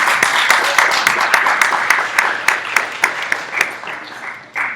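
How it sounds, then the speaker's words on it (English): A small audience at an art gallery event claps warmly; individual hand claps stand out, and the applause gradually thins and tapers toward the end, ending with a final burst. "Let's give her another warm round of applause."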